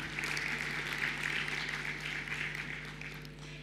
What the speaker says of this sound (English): Another round of applause for our discussants